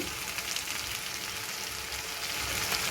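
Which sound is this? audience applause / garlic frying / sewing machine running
garlic frying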